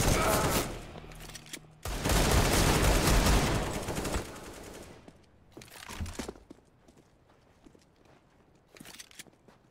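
Rifle spray in Counter-Strike: Global Offensive: a loud, sustained burst of automatic fire lasting a couple of seconds, followed by scattered quieter shots, footsteps and game noises.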